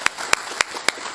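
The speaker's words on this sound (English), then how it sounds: "Why don't we give all of our scholars a round of applause for their speeches today." Audience applauding student scholars after their speeches, with a few distinct sharp claps standing out at an even rhythm over a soft, sparse background of hands.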